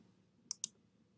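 Two quick, crisp computer mouse clicks sound close together, a sharp double tick over near silence.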